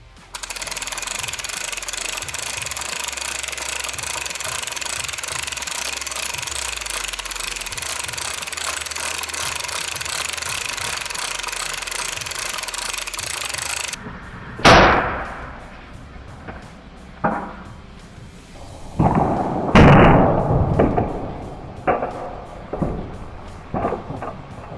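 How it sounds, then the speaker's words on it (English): An air cannon fires a ping pong ball through an aluminum can: a long, loud, continuous roaring rush gives way to a sharp, heavy bang, then a string of scattered thumps and bursts that fade in and out. "it pushes it through that little hole and launches a ping pong ball all the way to the end"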